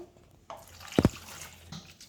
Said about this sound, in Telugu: ఇందులో కొంచెం చల్లటి వాటర్ పోద్దాం.